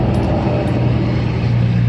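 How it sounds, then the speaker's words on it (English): A truck drives by close on a road, a steady loud engine rumble and droning hum that holds throughout with no talk over it. "Let that truck go by."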